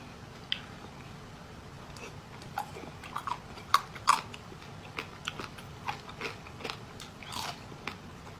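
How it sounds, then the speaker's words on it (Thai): Crisp pork belly made in an air fryer being bitten, giving a handful of sharp, close crunches scattered over a few seconds against a quiet background. "เสียงกรอบปะมันดีมากอะทุกคน"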